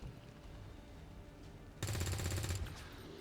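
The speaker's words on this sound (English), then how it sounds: "Gary's going to take his shot at 63." A single gunshot rings out in XCOM 2: War of the Chosen, a loud sharp burst with a short rattling tail over steady game background noise.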